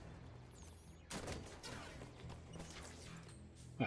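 Gunfire in the video game Halo 5: a dense burst of shots erupts about a second in and continues as a steady rattling fusillade, fairly loud, with a sharper crack near the end.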